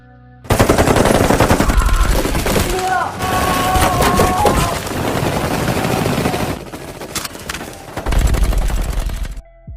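Dense bursts of automatic gunfire and scattered shots fill a shootout between police and gangsters, loud and near with brief lulls, shouting voices mixed in, and a final heavy volley before it cuts off.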